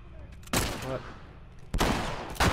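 Gunfire from The Last of Us Part II: loud blasts burst in around half a second and again near the end, separated by a quieter stretch with some voice.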